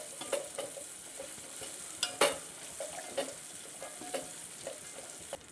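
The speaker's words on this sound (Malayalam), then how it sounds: "അപ്പോൾ നമുക്കിത് എല്ലാം കൂടി നന്നായിട്ടൊന്ന് ചേർത്തിളക്കി കൊടുക്കാം" Onions, raisins and cashews frying in oil get stirred, with a steady hiss of sizzling broken by intermittent scraping strokes and a few sharper clacks of the spoon against the pan, close by and with no talk.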